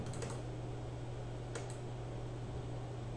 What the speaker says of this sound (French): je clique une fois et je fais entrer avec le clavier